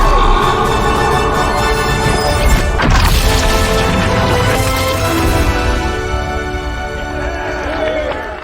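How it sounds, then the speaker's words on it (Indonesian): A loud, dense crash of a spaceship smashing to pieces, with grinding debris, in the middle of a busy, sustained cartoon soundtrack with music. "Sonic pun menghantam pesawat Robotnik hingga hancur berkeping-keping"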